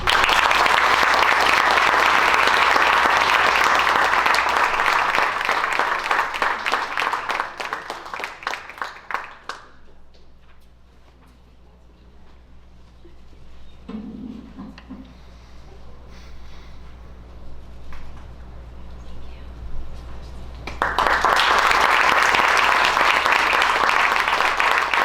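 Audience at a scholarship awards ceremony bursts into loud sustained applause for award recipients, fading out into a quiet pause before another strong round of clapping returns.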